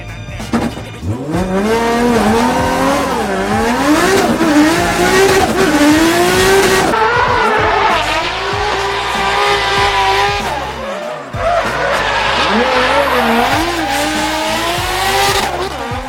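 A drift car with a brand new engine build runs on full boost at the Hungaroring Drift GP, its engine roaring and revving loudly and close while the tires squeal and skid almost without pause.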